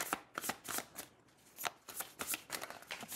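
A deck of tarot cards is shuffled and cut by hand, a run of close, crisp riffling bursts and soft slaps repeating quickly with no talk over them.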